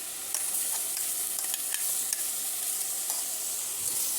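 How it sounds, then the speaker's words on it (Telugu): Grated carrot is fried in ghee for carrot halwa, producing a steady, fairly quiet sizzle with occasional soft scrapes from the stirring spoon. "ఇందులో మంచిగా ఈ నెయ్యిలో ఫ్రై చేయాలి"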